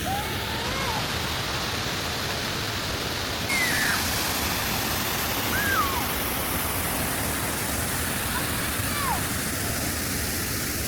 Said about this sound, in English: It has to be the waterfall.